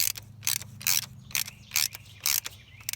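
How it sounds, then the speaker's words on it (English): Ratchet wrench tightening spark plugs on a car, a run of close, sharp clicking bursts in an uneven rhythm, heard alone. "I'm tightening the spark plugs in."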